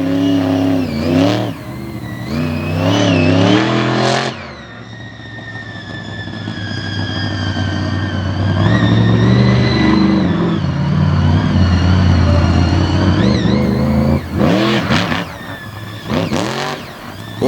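A monster truck engine revs hard during a freestyle run in an arena, rising and falling in loud surging bursts with a long sustained roar in the middle, close and dominant with no talking.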